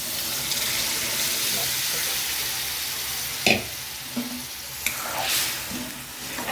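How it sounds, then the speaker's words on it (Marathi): Eggplant curry simmering in a pan after a little water goes in, giving a steady soft sizzle and bubbling that runs the whole time, broken by a few brief clinks of a spoon against the pan. "कसे छान आपले वांगे वाफत आहेत, मस्त असे."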